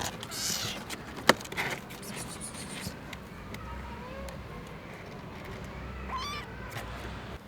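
A small kitten found alone in a cardboard box gives a few faint, thin meows amid quiet background noise, with one sharp tap early on.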